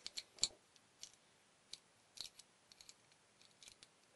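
A key is tried in a cabinet lock, giving faint, scattered metallic clicks and small scrapes at an irregular pace in a quiet room.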